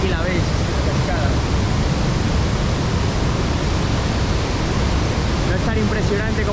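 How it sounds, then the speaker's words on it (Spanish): Cadillalena Falls, a waterfall in Sri Lanka, roars as a loud, steady broadband rush of falling water that fills the whole scene without pause. "aquí la veis, cascada."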